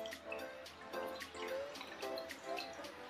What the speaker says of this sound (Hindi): इनका पानी मैं निकाल लेती हूँ।